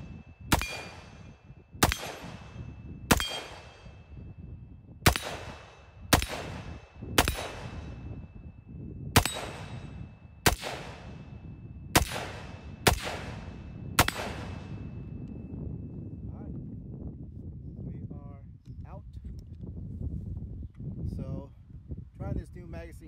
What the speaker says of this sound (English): let's take a few shots and see how well the recoil system